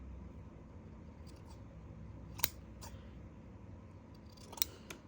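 Scissors trimming the top of a handmade needle keep so it looks like an ice cream cone: two sharp, isolated snips spaced about two seconds apart over quiet room tone, close and with no voices.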